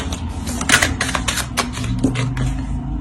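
Tarot cards handled at a table, with a string of quick papery clicks and taps as a card is drawn from the deck and set down, close and fairly loud, no talking.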